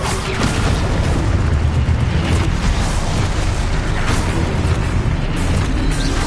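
Spell blasts from a video game wizard duel, a dense, continuous roar of booming explosions and bursts filling the whole stretch, loud and close with no gaps.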